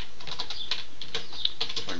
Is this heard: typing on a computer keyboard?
yes